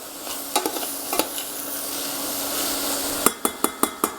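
Salmon cooks slowly in oil in a pot with a constant close sizzle, broken by a few scattered utensil clicks and then a quick run of five sharp taps against the pot.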